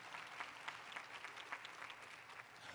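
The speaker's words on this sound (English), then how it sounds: "we can applaud for that" Audience applause at Pitzer College's 55th commencement: a crowd clapping steadily and fairly loudly throughout, with no voices over it.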